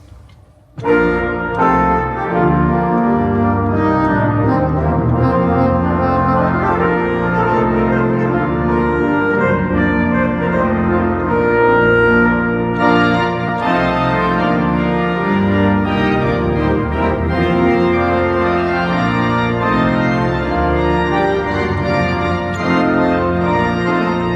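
Sustained, loud pipe organ playing on the tuba stop with full, rich chords and a bold reed-like tone, continuous and resonant throughout with no voices.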